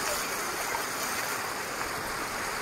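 Water pours steadily over the rocks at Krang Suri waterfall in Meghalaya, a continuous broadband rush that holds at an even, fairly loud level without any talking.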